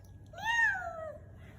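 A small girl of about one and a half mimics a cat with a single drawn-out meow that rises and then falls, clear and close, with no talk over it.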